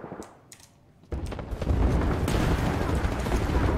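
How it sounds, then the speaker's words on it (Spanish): Loud, dense booming blasts of rockets exploding in Apex Legends erupt after a quieter first second, continuing as a steady barrage of explosive rumble. "¿quién lanza esos cohetes?"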